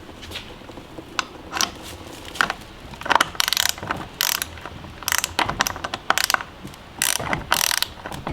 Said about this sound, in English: When you hear that cranking sound, what does that signify for you?